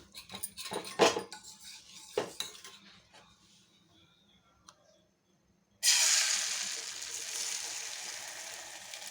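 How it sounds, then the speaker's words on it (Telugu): A dollop of lentil and raw mango batter lands in heated oil in a pan after a few clinks of utensils, then a loud, sudden frying sizzle that hisses on steadily and fades slightly. "ఇప్పుడైతే ఆయిల్ హీట్ అయింది. ఒక అట్టు అయితే వేసిస్తాను."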